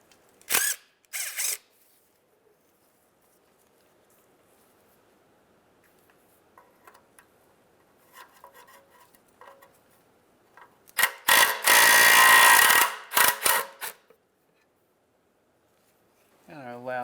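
10 mm bolts are ratcheted out of a cover on a 2003-2011 Honda Element: short bursts of rapid ratchet clicking near the start, a long loud run in the middle and a brief burst at the end, with quiet pauses between.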